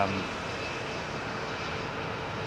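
A jet airliner arriving on runway 27R at London Heathrow Airport gives a steady, loud engine roar with broad rushing noise that holds evenly throughout.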